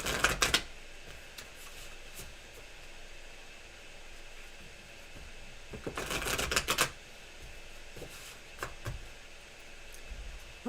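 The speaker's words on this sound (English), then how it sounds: "Let me shuffle one more. So when I give it good shuffles." Tarot cards being shuffled by hand in two brisk riffling bursts, one at the start and a longer one in the middle, with softer card taps between them in a quiet room.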